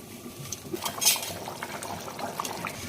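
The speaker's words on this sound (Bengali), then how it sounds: "অল্প একটু জল দিচ্ছি।" Water poured into a pan of bhetki fish curry, with a soft liquid splash, a clink of a utensil and a gentle simmering bubble behind it, close and fairly quiet.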